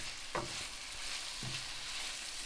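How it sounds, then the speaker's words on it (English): Anchovies sautéing and melting into oil in a pan for pasta con le sarde, a steady soft sizzle with a couple of brief utensil clinks against the pan, no talking. "When you saute it together, the anchovy have to disappear everything."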